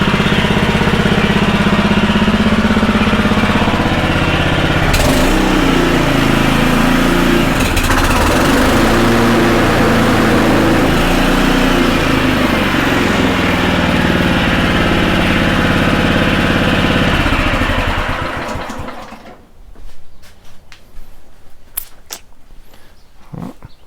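A Honda lawn mower engine runs with the blade engaged, a loud, steady droning roar held close for most of the stretch before it cuts out, leaving faint scattered clicks and rustles.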